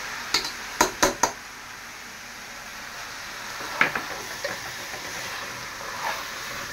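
Rice goes into a pot of fried onion, ginger and garlic and is stirred with a metal spoon: a quick run of sharp clanks against the pot, then a few softer knocks over a faint sizzle.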